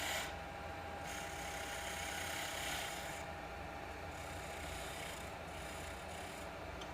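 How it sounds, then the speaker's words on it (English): A skew chisel turns the tenon on a wooden stool leg spinning in a lathe, a steady, fairly quiet scraping hiss with a constant motor whine running beneath it. "Now I'm going to use a skew to turn the leg tenon,"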